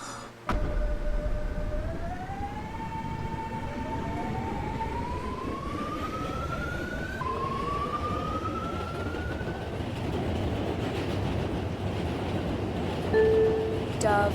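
A 2500 Series F Line train departing after its doors close, a rising electric motor whine climbing in pitch as it accelerates over steady rumbling rail noise, with a brief tone near the end.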